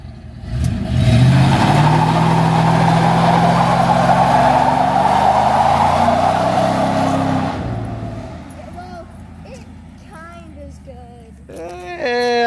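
A Dodge Dakota with a Magnum engine, in need of a tune-up, roars loudly through a sustained burnout revving for about seven seconds, then drops to a rough idle while people talk over it.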